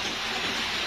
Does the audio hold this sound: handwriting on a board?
no